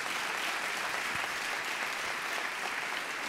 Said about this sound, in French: Et applaudir.